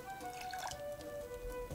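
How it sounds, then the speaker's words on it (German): A bottle being filled with water in the video game Raft, heard as faint trickling and dripping beneath soft steady tones. "Kann man da Wasser reinfüllen? Flüssigkeit einfüllen."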